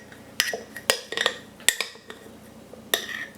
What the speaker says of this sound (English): I'm going to stir it first.